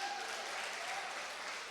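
A church congregation claps together in praise, a dense, even wash of applause held steady throughout, with a voice faintly present beneath it.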